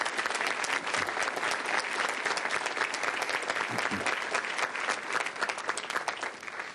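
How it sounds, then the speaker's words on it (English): Standing audience at a city council meeting gives a round of applause for Crime Stoppers volunteers, a full, even wash of clapping from many people that continues without pause, fairly quiet overall. "So if you could all stand and give them a nice round of applause"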